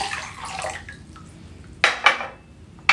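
Water poured into a container while mixing a pork chop marinade in a kitchen, heard as a few short splashing bursts with soft drips and quiet room noise between them.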